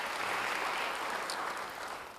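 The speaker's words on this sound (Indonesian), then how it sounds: "Beri tepuk tangan bagi dia." A congregation applauding during a church service, a dense wash of clapping at moderate level that thins slightly toward the end, with no talking.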